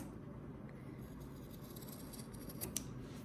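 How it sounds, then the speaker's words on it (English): Scissors snipping through crochet fabric for a tunic, faint crisp cuts bunched near the end over a soft steady background hiss. "We're going to cut it off there at that 90 degree here"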